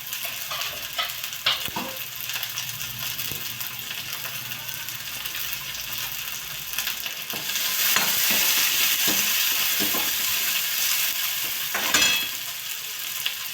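Chopped onion sizzles loudly in hot oil for paneer bhurji, a steady crackling hiss punctuated by scraping stirs and clinks of a spatula against the pan, swelling louder in the second half. No voices.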